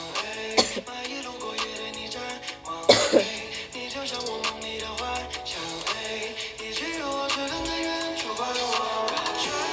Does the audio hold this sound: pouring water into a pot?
no